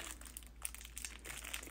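A small fabric potholder pouch is wrestled open by hand, producing continuous close crinkling and crackling of packaging with irregular sharper crunches and no talking.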